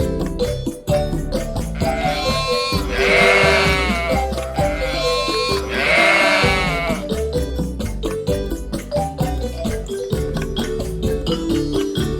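A sheep bleats twice, each cry long and wavering, laid over continuous background music that carries on between the calls.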